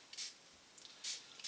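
Three sharp hissing bursts from a hand spray bottle misting 3% hydrogen peroxide onto a Psychopsis orchid, close and fairly faint, separated by brief pauses.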